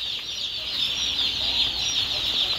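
Tiger breed chickens cluck in a dense, steady flock chorus at a poultry seller's farm, a continuous bright chattering layer with no talk over it.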